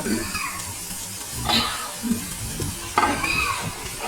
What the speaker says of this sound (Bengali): একটু নাড়িয়ে মশলার সাথে সুন্দর করে মিশিয়ে নিব যাতে মশলাটা সুন্দরভাবে ভুড়িগুলোর সাথে লেগে যায়